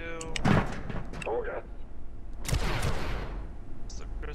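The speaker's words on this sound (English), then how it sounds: "He was just trying to shoot me." Enemy gunfire aimed at the player in the video game Abiotic Factor, with a few sharp shots under bursts of talking voices and clattering game noise.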